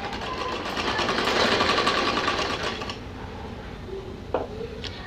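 A sewing machine stitches along a fabric strip for a small doll dress for a Laddu Gopal idol, a steady close whir that fades into quieter handling with a single sharp clink.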